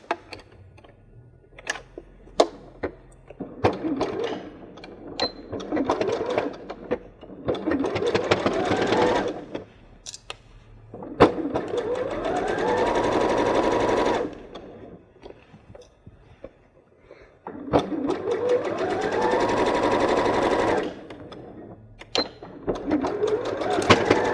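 Close, loud bursts from a sewing machine putting securing stitches into a bag strap, each run rising and settling as the stitching speeds up, separated by clicks and handling noise, with no talking.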